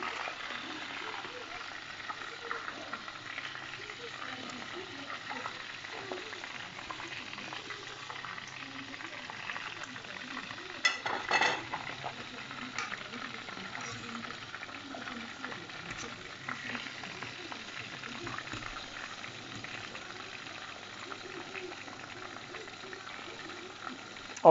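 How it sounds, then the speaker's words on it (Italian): Zucchini flowers stuffed with ricotta and anchovies deep-frying in hot oil, a steady soft bubbling and sizzle that goes on for a long stretch, with a brief louder burst partway through. "vedete che bel rumore che c'ha l'olio"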